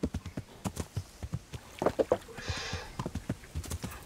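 A horse trots in Kingdom Come: Deliverance, a close, rhythmic clip-clop of hooves on ground at a steady quick pace, with a short burst of rustling noise midway.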